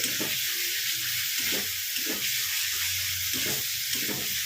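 Chickpeas and small potatoes sauté in a pan, a steady close sizzle running throughout with a few soft stirring scrapes rising every second or so.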